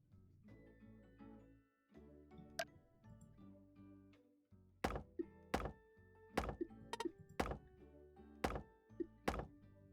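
Fireworks going off at a neighbor's house: a run of sharp, loud bangs in irregular succession through the second half, cutting over steady background music that plays throughout.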